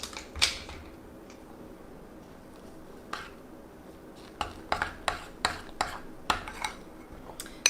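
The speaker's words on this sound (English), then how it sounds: "So we're going to stir all that up." A spoon clinking against a bowl while lemon sugar-free Jell-O mixture is stirred, producing a series of light, sharp taps that come in a fairly steady rhythm over a quiet background.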